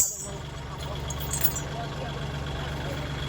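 A tractor engine idles steadily at a worksite where ground is being graded, a continuous low rumble that holds throughout with voices nearby.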